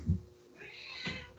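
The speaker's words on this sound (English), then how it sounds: "Can you hear my cat?" A pet cat meows close by indoors, a short low burst followed by a longer rising meow that peaks near the end, with faint room noise underneath.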